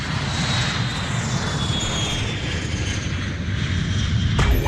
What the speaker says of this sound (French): 4, 3, 2, 1. Décollage.